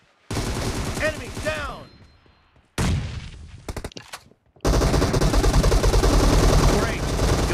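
Sustained automatic gunfire in a warehouse fight game, coming in loud rapid bursts separated by short gaps, with a shouted game voice line over the shooting.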